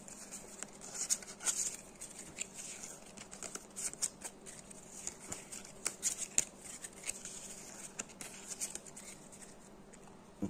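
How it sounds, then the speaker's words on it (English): Cards shuffled by hand during setup of a solo board game, a steady run of soft riffling patters and flicks close by with no talk. "Let's give it a good"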